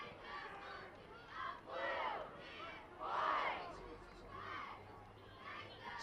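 The home crowd at an Ohio high school playoff football game in Reading cheers and shouts in repeated swelling roars, heard at some distance and fairly faint, rising and falling several times.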